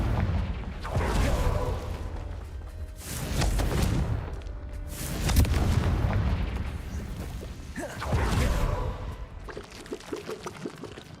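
Repeated explosive blasts from the Confringo spell in Hogwarts Legacy, about four booming bursts spaced a couple of seconds apart, each with a rushing, crackling tail that fades before the next.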